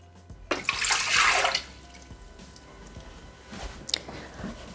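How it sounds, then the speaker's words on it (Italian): Water poured into a Thermomix mixing bowl for pizza dough, a close, splashy rush that swells for about a second and then settles into quieter trickles and small knocks. "Iniziamo la ricetta mettendo all'interno del boccale l'acqua"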